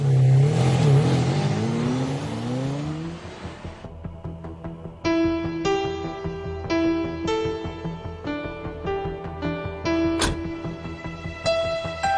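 A car drives by loudly at the start, its engine sweeping downward as it passes, then fades beneath dramatic tonal music for the rest of the stretch.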